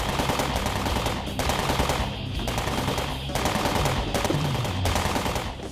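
Rapid, sustained machine-gun fire from a low-budget movie's sound effects, loud and dense across the whole stretch with brief dips between bursts, no voices.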